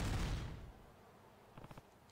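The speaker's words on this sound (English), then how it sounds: "That was an explosion!" An explosion goes off in the Yakuza-style video game Judgement, a loud broad booming blast at the start that decays over about half a second, followed later by a few fainter sharp cracks.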